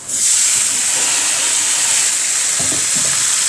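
Liver hitting a hot pan and sizzling: a loud, steady, bright hiss that starts abruptly and stays constant throughout, with a few soft clinks near the end.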